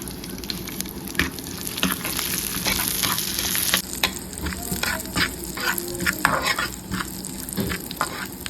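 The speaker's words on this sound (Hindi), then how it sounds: "चलिए ये सारे मसाले इसके अंदर तेल के अंदर" Whole spices crackling and frying in hot oil in a pan, a steady loud sizzle with scattered pops and spatters throughout, no voices.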